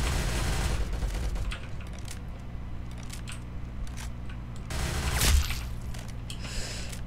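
Gunfire from a gun in the video game Arsenal, heard as scattered sharp cracks over a dense, steady game soundscape, with a louder burst of shots near the middle and more toward the end.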